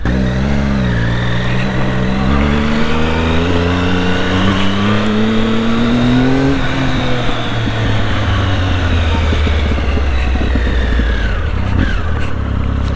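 A 2005-2010 generation Triumph Speed Triple motorcycle engine revs up through rising pitch, then drops back and rumbles on, loud and close throughout with no talking.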